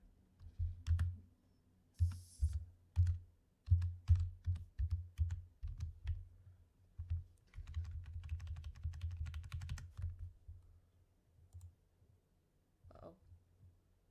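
Rapid close-up clatter of typing on a computer keyboard, with dense key clicks in bursts that pause and resume and fade near the end.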